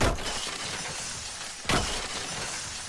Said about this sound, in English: that sounds like a lot of glass breaking